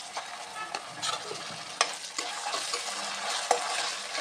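Ginger-garlic paste hitting onions already browning in a pan, a steady close sizzle with scattered spatters and stirring scrapes, no voices over it.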